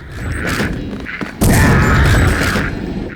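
A shotgun fires in the first-person shooter Deus Ex, booming loudly with a heavy thud and a sharp blast about midway that stays sustained and close.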